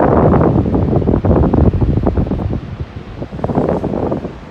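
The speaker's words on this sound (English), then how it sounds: "Well, it's pretty windy here." Strong wind gusting near Ruby Beach on the Pacific coast, a loud continuous roar of buffeting microphone noise with possible surf beneath, no talking.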